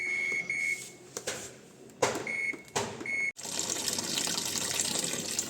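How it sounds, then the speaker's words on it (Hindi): After a few short clunks and intermittent splashes, tap water gushes steadily into a washing machine, a close and continuous rushing stream filling the drum. "तो जब तक पानी भर रहा है"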